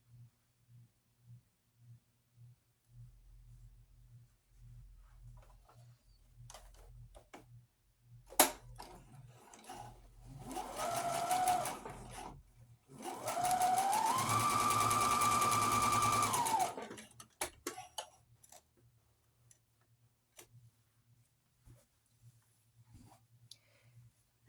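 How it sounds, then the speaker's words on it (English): Sewing machine stitching quilt pieces together for a row, starting with a few short bursts and then a steady whirring run of several seconds before stopping, with light clicks around it. "And then I'll sew the last ones together for that row."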